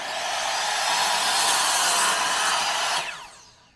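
A miter saw slices through a wooden board outdoors, a loud, steady whirring cut lasting about three seconds before the blade spins down and fades.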